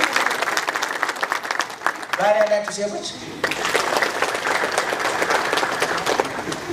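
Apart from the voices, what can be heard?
audience clapping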